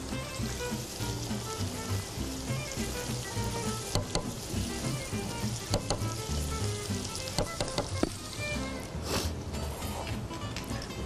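Steady, loud sizzling and frying with occasional scraping stirs as sugar cooks in a pan of mutton or beef stew seasoned with cardamom, continuous throughout with no talking.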